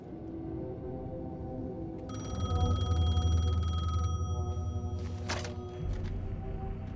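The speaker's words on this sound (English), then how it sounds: "The payphone was ringing." A payphone rings in the video game Alan Wake, a steady electronic tone that starts partway through over a low droning ambience, loud and close with no voices.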